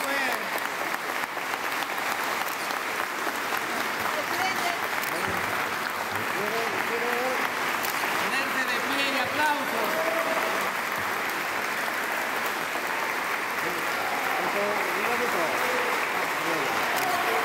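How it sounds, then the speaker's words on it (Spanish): A large audience at a live music event applauds loudly and steadily, a dense wash of clapping that goes on without a break, with cheering voices mixed in. "Un aplauso más fuerte"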